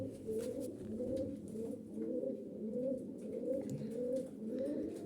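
A pigeon coos repeatedly in soft, rolling phrases, close by and steady, with faint background noise.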